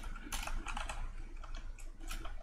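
Rapid typing on a computer keyboard while editing CodeIgniter code, a close, continuous patter of key clicks in uneven bursts with no talking.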